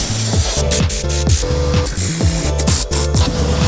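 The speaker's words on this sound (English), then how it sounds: "So I use compressed air to blow out underneath the seats" Compressed air hisses steadily while blowing debris from under the seats and carpets of a high-mileage 2002 Ford F-150 work truck interior, loud and close, over a rhythmic musical backing.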